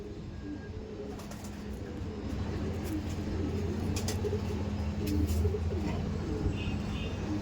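Madras pigeons cooing in low, repeated throaty murmurs against a busy background with faint passing traffic and scattered clicks, steady throughout.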